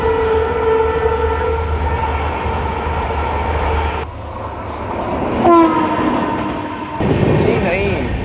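The Nagarsol–Kacheguda Express runs on the line near the Maharashtra–Telangana border. A steady, loud rail rumble carries horn-like tones, heard from on board a passing intercity journey, and voices can be faintly heard.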